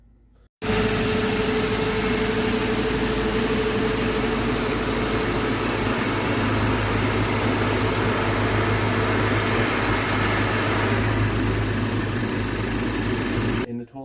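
A Honda Integra, right-hand drive, swapped from its D-series engine to a K20C1 with intercooler piping hooked up, runs steadily at a constant idle-like drone that is loud and close with no breaks.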